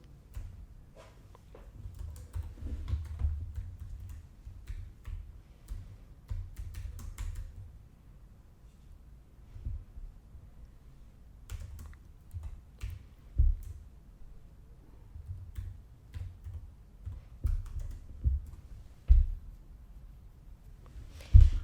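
Computer keyboard typing in a quiet room: steady runs of soft, close key clicks with short pauses and a few louder taps, no voices.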